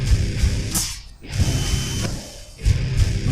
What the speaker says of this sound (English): we got a drill and some banging